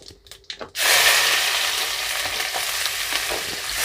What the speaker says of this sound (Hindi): इसको प्याज को अच्छे से भूनते रहेंगे जब तक कि प्याज ब्राउन ना हो जाए।